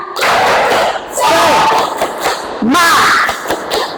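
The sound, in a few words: class doing a spirit clap chant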